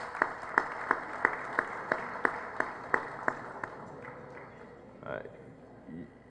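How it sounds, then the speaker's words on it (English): A small conference audience claps in a slow, even rhythm, about a dozen distinct claps, then the clapping tapers off and a speaker resumes talking. "give you a round of applause for being here"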